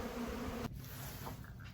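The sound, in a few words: bees buzzing from a rescued colony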